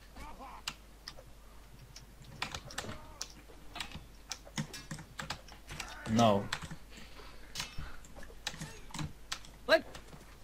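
Computer keyboard typing with rapid, irregular clicks and clacks runs throughout at moderate loudness, with a louder burst of keys near the middle; a voice talks faintly over it at times.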